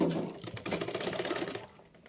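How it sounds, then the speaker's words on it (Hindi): Sewing machine stitching down a folded neckline strip on a blouse, a steady rapid mechanical chatter running close and loud for nearly two seconds before easing off. "तो अब हम इसके ऊपर एक सिलाई लगाएंगे।"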